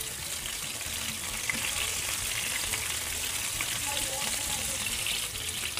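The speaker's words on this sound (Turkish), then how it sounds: "sık sık köftelerimi çevirerek iyice kızartıyorum ki içleri de pişsin" Meatballs sizzle and fry in a pan, a steady crackling hiss that continues evenly throughout.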